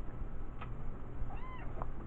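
A tabby cat gives one short, faint meow close by against quiet indoor background noise.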